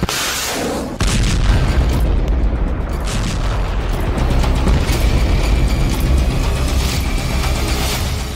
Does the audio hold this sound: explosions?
yes